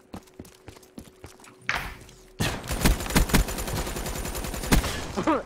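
Gunfire in a shooter video game: a few light shots at first, then a loud rapid burst of automatic fire with sharp cracks, close and dominant.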